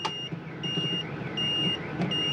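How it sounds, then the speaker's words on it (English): Door-open warning on an Auto Sleeper Malvern motorhome: a steady electronic tone beeps in a slow, even on-off rhythm, about four pulses, close by over low cabin hum. "this is just beeping now because the door is open."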